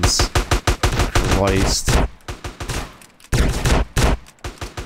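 Gunfire aimed at the player in the video game GTA San Andreas, loud rapid bursts of shots that repeat in quick volleys and then a short gap, with someone speaking over the shooting.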